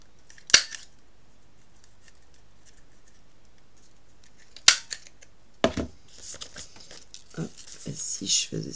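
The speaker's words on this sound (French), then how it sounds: "Ah, je vais le couper." Scissors cutting paper while decorating notebook pages, a few sharp isolated snips followed by a quicker run of crisp cuts and paper rustle near the end, close and clear against a quiet room.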